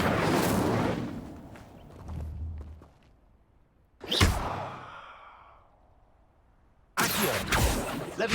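In Hogwarts Legacy, an Incendio fire spell is cast three times. Each cast is a sharp whooshing, roaring burst that fades out before the next, with near silence in between.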